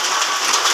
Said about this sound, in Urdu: بہت بری طرح سے اولے برس رہے ہیں